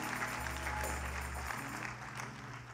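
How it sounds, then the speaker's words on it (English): A church congregation claps during a New Year's Eve service, a fairly faint wash of applause over a steady low hum, tapering off toward the end. "give him a hand clap"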